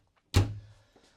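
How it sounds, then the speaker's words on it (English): Tri-slide shower door inside a fifth wheel trailer, sliding shut with a single sharp knock followed by a short fading rumble, then quiet. "I love the tri-slide shower door."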